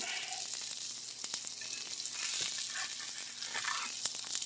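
Shrimp burgers fry in a pan with a close, continuous sizzling hiss and scattered crisp crackles and pops, steady in level with no talk over it.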